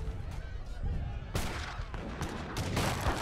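Massed gunfire from sniping units pounding bombards in a strategy video game, a dense, continuous volley of crackling shots with bursts swelling midway, heard under light speech.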